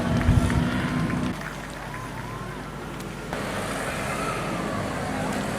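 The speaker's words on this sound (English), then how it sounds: "Guys, start your engines" Junior Sedan race cars fire up their engines at Rockhampton Speedway, a continuous roar of several motors over a loud opening burst, with a rising whine sweeping through, heard up close with no talk over it.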